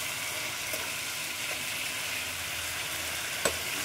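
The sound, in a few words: spicy dry chicken frying in a pan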